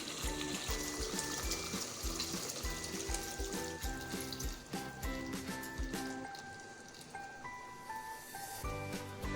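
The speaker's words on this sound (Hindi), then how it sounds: "अब हम इसमें ऐड करेंगे पानी।" A steady stream of water splashes and pours continuously into a pot of fried mutton masala, with a bubbling, trickling texture and faint clinks throughout.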